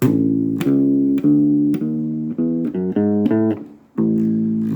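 Bass guitar playing a stepwise chromatic line, each plucked note ringing clearly in sequence before returning to a low held note.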